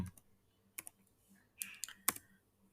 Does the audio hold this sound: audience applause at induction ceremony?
no